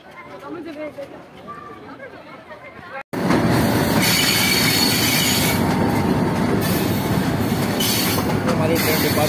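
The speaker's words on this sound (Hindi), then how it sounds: "हमारी ट्रेन डिपार्ट हो चुकी है।" A Pakistan Railways passenger train pulls away from a station on the Haripur Hazara to Rawalpindi route, opening with quieter platform chatter before a loud, steady roar of wheels and carriage noise takes over, with voices talking underneath.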